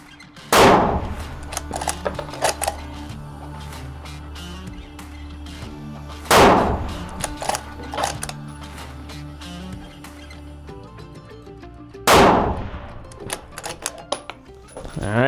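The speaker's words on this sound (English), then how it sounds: "We're gonna be shooting that 300 yard 3-inch plate again and see how many impacts we can make." Ruger Precision rifle fires three loud, sharp shots at roughly six-second intervals, each report followed by a faint distant ring from a 3-inch steel plate at 300 yards, with quiet outdoor background between shots.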